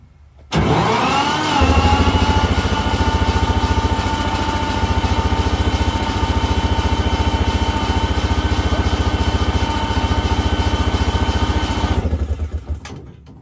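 An engine running on a dyno starts with a sharp catch and settles into a loud, steady, close throbbing idle for about ten seconds before shutting off and sputtering down.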